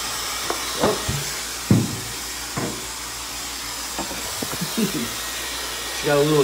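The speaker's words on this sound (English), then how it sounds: "I'm just blasting the hair dry and wrapping it up and around." A hair dryer blows steadily at hair during a short layered women's haircut, a constant airy hiss with brushing and handling noises and some voices now and then.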